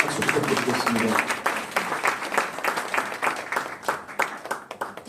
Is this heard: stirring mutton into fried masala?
no